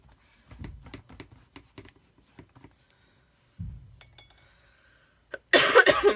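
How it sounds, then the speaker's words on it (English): A person with a cold coughing a few times, soft and close, amid light tapping and small handling noises, followed by a louder burst of noise at the end. "Sorry for the coughing."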